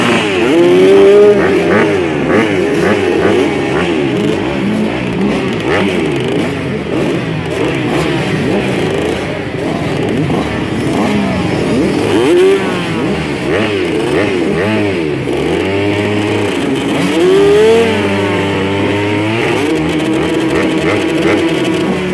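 A motocross motorcycle engine revving hard outdoors, close and loud, with repeated rising and falling throttle blips and a few sharp high-pitched surges across about twenty seconds, with no voices over it.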